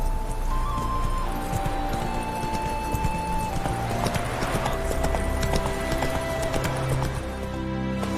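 The horse Roach in The Witcher 3 walking, with steady rhythmic hoof clip-clops close by over a continuous game background and music, with no speech heard.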